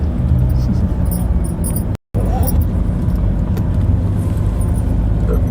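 Cars creeping through a slow traffic jam on the Mumbai Sea Link, heard from inside a vehicle as a steady low road and engine rumble with faint jangling, broken by a brief silent gap.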